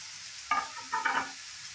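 Boiled cauliflower stems, carrot and radish stirred together in a pan, two short bursts of scraping and clattering over a quiet low hiss, close by, no voices.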